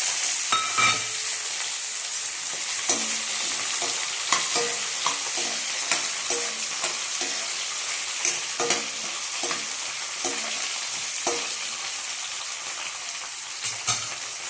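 Ivy gourd frying in oil in a pan, with a steady close sizzle under repeated rhythmic clinks and scrapes of stirring throughout and no talking.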